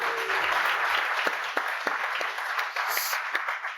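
An audience bursts into applause for Noah Kagan, giving a dense, bright, sustained clatter of many hands clapping at once, with a few sharper individual claps standing out near the front.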